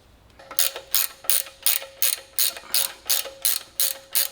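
A ratchet tightens a new bolt on a Unimog 404 brake hose during a brake rebuild: about ten crisp, evenly spaced bursts of clicking, close and loud, with no speech.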